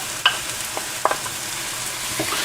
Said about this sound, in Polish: No i marchewkę również podsmażamy dalej z tą cebulą.